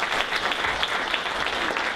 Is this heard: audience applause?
yes